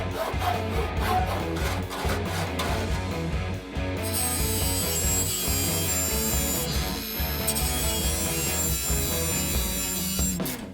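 Workshop metalwork on sheet metal fender extension flanges for a '50s Chevy pickup, with continuous close cutting and grinding noise, a tool whining high over a rough droning rasp that runs throughout.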